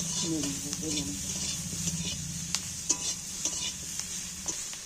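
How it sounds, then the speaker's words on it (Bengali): Onions sizzle steadily in hot oil, with a stirring utensil scraping and clicking against the pan and a voice talking softly over it. "পেঁয়াজটা দেখো ভাজা হয়ে গেছে"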